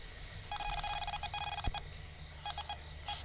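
A handheld ghost meter gives off clusters of shrill electronic beeps in irregular bursts, with a single dull knock midway over a quiet hum.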